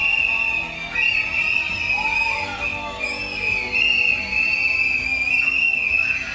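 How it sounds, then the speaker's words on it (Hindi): Shrill whistles blowing repeatedly amid a noisy crowd, with long sustained high tones and pitch slides overlapping loudly throughout, as at a Tamil Nadu election victory celebration. "अब उनकी जीत के बाद तमिलनाडु में हर तरफ सीटी बज रही है।"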